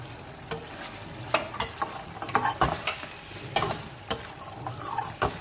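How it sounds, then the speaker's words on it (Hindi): Spice masala of red chilli powder, turmeric and salt roasting in a pan for boneless chicken handi, a steady sizzle broken by irregular scraping stirs, close and moderately loud with no talk. "अब हम इसको भूनेंगे ज़रा सा"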